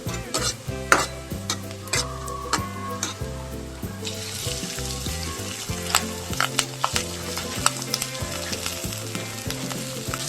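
Bilimbi frying in a pan, stirred in hot oil with spice powders for a Kerala-style dry roast; steady sizzle with repeated scraping stirs and metallic utensil clinks, close and continuous with no talking.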